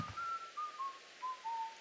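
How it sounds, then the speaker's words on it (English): Luigi whistles a short melody in the video game Luigi's Mansion, several clear, thin notes stepping gently downward, alone and fairly close. "He'll whistle it."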